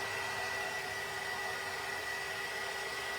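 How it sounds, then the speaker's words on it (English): A handheld heat tool held close to paper coated with cinnamon and Mod Podge gives a steady, continuous blowing hiss, like a hair dryer. It runs alone with no talk for the whole stretch. "I had this heat tool up really close"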